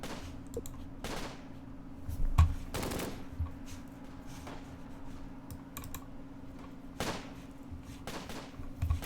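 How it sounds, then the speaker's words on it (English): Machine gun fire in the WWII tactics game Close Combat comes in a few short, sharp bursts spaced several seconds apart. A low steady hum runs underneath and fainter clicks fill the gaps. "They are armed with a machine gun, and that's going to help us for sure."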